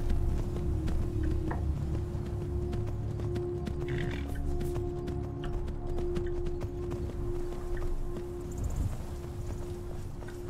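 Horse hooves galloping in the video game Skyrim, a steady, continuous drumming of hoofbeats over a sustained tonal drone, holding level for the whole stretch.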